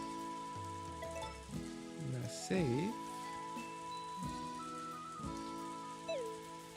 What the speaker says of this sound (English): It's raining a lot.